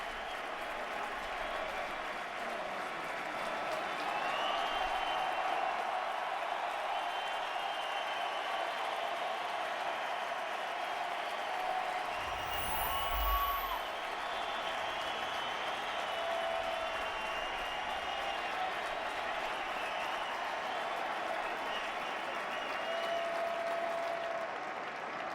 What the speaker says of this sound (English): listen to this hand that this Yankee Stadium crowd will give their rookie pitcher in his first postseason start